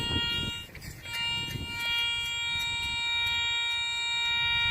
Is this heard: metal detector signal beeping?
yes